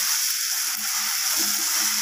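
Taro curry with sugar stirred in a frying pan, a steady broadband sizzle with faint scraping of the spoon, close and continuous without talk.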